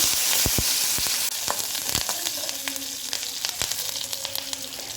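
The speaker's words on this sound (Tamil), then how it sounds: "பத்து முந்திரி பருப்பு ஒரு நாலு வரமிளகாய் ஒரு கொத்து கருவேப்பிலைங்க எல்லாம் ஆட் பண்ணி நல்லா ஃப்ரை ஆகட்டும்" Ten cashews, four dried red chillies and a sprig of curry leaves fry in hot oil for a semolina dish, a steady crackling sizzle with sharp pops and spits scattered throughout, close and alone.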